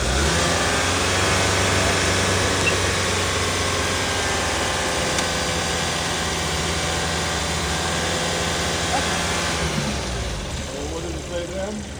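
Car engine held steady at raised revs during an alternator charging test, a loud continuous drone with steady harmonics that eases and drops near the end.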